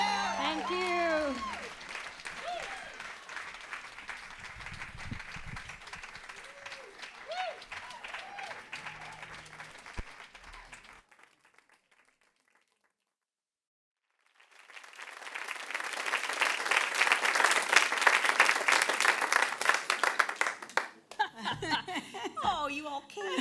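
Audience applause at an evening celebration event, loud crowd clapping with some cheering and laughter, fading to near silence midway before a second strong burst of applause swells up; voices and music-like tones sit under the first part.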